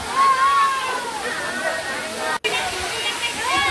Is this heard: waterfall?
yes